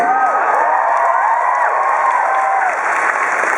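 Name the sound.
audience applause and cheering for George Takei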